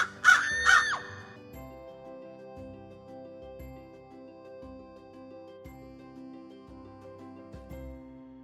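A rough crow gives two loud, harsh caws right at the start, then falls silent while soft sustained tones and low rhythmic thumps carry on underneath.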